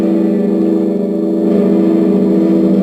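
An electric guitar played through a Boss MD-2 Mega Distortion pedal set for light distortion rings out in a sustained, buzzing chord that holds steady and loud, with a slight change partway through.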